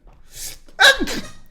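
A single sharp sneeze, preceded by a quick breathy intake, close to the microphone and otherwise quiet.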